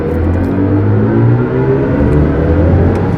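A BMW i5 M60, a 601-horsepower electric car, pulls hard under acceleration, with a steady synthetic whirring drone and rising layered tones that hold loud and close for the whole stretch.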